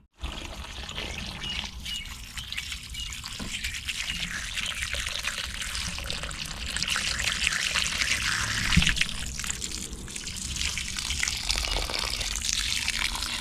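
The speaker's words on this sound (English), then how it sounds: "I'm going to water this in right now extremely well." Water pours steadily into a tree planted in a container flowerpot, a continuous trickling and splashing that grows slightly fuller over several seconds, close and without talk.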